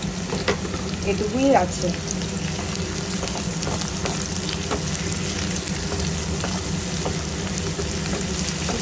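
Fish fries in hot oil with browned garlic and onion, giving a constant crackling sizzle close by, broken by occasional scrapes and pops as a person speaks briefly over it.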